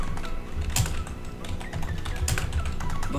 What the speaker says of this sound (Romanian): acum stau să scriu, se și aud tastatura aiurea